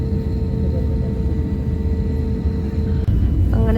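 Cabin of an airliner accelerating down the runway for takeoff on a flight from Abu Dhabi to Delhi: a loud, steady, deep engine roar and rumble fills the whole stretch, with a brief shift near the end.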